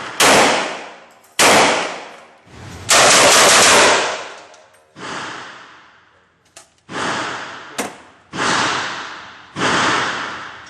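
Akdal MKA1919 12-gauge AR-style shotgun firing Fiocchi low-recoil shells outdoors, about eight loud sharp blasts, each trailing off, spaced irregularly about a second apart.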